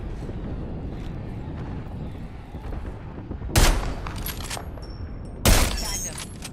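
Gunfire in the Apex Legends battle royale game, with two loud sharp bursts of shots standing out over steady rumbling game noise and background speech.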